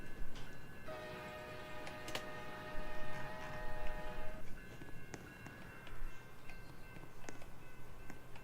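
A Roblox train hauling yellow and blue boxcars rolls past with a steady rumble and rhythmic clicking of wheels, while a sustained multi-tone horn sounds for a few seconds in the middle.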